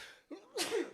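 A single short sneeze bursts out during a sports talk show, with a brief breathy intake before it and a sharp explosive release, fairly quiet and alone.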